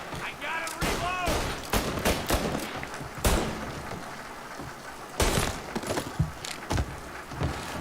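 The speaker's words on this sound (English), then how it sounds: "Line it up and shoot." Gunfire from the crime game Mafia: Definitive Edition, with several sharp, loud shots spaced irregularly amid game noise and background clatter.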